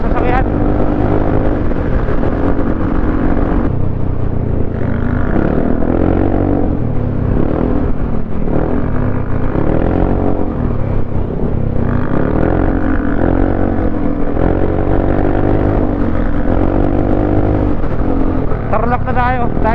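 Cars and motorcycles in pre-dawn highway traffic on the way to Tarlac, heard from a moving vehicle on a long V8 endurance ride, a steady loud drone of engines and road noise with someone talking over it.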